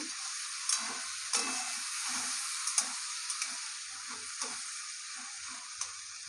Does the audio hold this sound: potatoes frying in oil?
yes